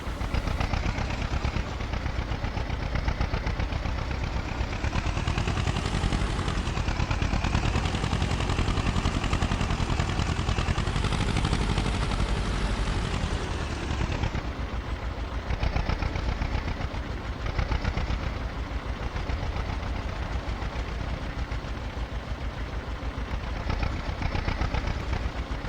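A tractor engine in the farming game Farming Simulator 25 runs continuously with a loud, gritty, rumbling drone, rising and falling slightly in pitch with throttle changes before settling to a steadier idle.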